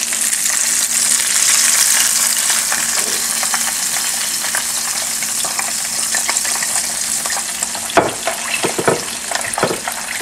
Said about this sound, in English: with the oil covering the whole piece, it cooks fairly fast